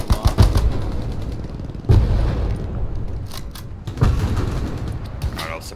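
Covering gunfire in the Hell Let Loose game on Omaha Beach: rapid bursts of rifle and machine-gun fire with heavy booming blasts, loud and close, coming in several waves with a voice talking under it.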